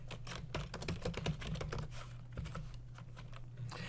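Typing on a computer keyboard while coding Excel developer kit blocks, a steady run of quick close key clicks with a constant low hum underneath.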